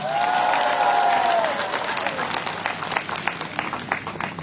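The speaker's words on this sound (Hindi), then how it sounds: "ACF के लिए जोर से ताली हो जाए।" A crowd at a hunger strike protest rally breaks into steady applause and cheering, a voice rising over it at first before the clapping carries on alone.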